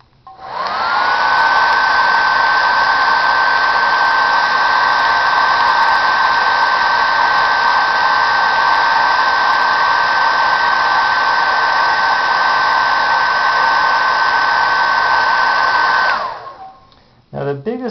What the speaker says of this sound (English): I'm going to blow cold air on it and watch it go the other way.